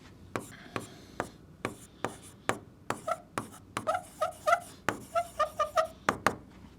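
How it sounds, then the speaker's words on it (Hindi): Chalk or marker taps and strokes on a board in quick uneven bursts as a physics problem is worked out, sharp knocks growing denser toward the end, close and without talk. "तो इसके लिए लिख देता हूं"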